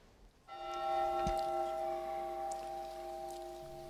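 The bell of the SS Ionic troop ship is rung to open a memorial service at the Hall of Memories, Auckland War Memorial Museum: one struck bell tone rings out and decays slowly, fairly faint against the room.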